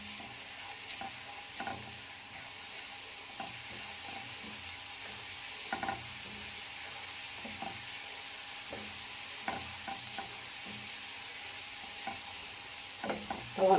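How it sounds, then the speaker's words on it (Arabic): Large cloves of minced garlic frying and browning in a pan, a faint, steady sizzle with soft scraping and clicking from stirring. "حمر بس التومه"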